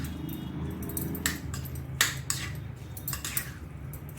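Avocado, onion, salt, pepper and amchur powder being mixed together in a bowl, giving soft squishy stirring with a few sharp clinks of a spoon or fork, close by with no talking.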